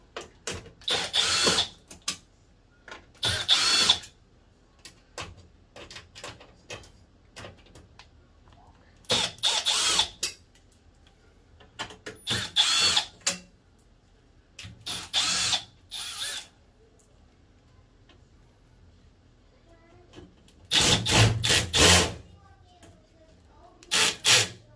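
A screwdriver backs Phillips screws out of an LG washing machine panel, heard as several short, close ratcheting and whirring bursts separated by quiet pauses.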